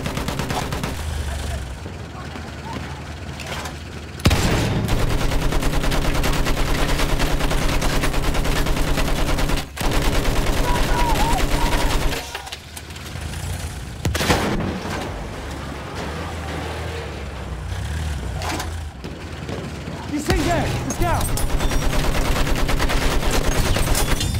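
Machine gun fire in the video game Battlefield 1: dense, sustained bursts of rapid automatic gunfire with brief gaps, loud and close, set in a noisy battlefield mix with engine rumble and a voice calling out over it.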